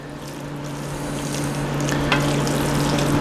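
Pork frying in a pan while tongs stir and break it up, a steady close sizzle with a low hum beneath and occasional scraping touches of metal on the pan.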